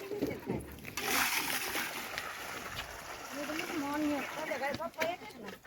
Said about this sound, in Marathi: हे बघ इथून पाणी हे बघ शर्व हे बघ असं पण टाकायचं खाली